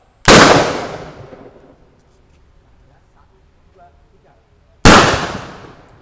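Two loud, sharp spirit-fuelled firecracker-cannon blasts a few seconds apart, each ringing and fading away, with quiet pause between them.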